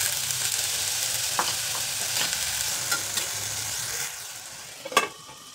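Potatoes fry with finely chopped green chillies in hot peanut oil in a pan, giving a steady close sizzle with a few sharp stirring clinks, the last and loudest near the end.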